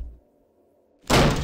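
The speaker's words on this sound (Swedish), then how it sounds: "Och hon bankar sönder dörren." After a hushed lull, a heavy bang erupts against a door in the ghost-hunting game Ghost Hunters Corp, a sudden loud thud that rings on briefly.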